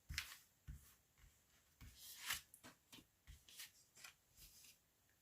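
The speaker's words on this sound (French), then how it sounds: "Alors, je vais sortir 5 cartes." Tarot cards being shuffled and drawn from a deck, quiet close riffles and soft slaps of cards in a loose irregular rhythm of about a dozen short bursts.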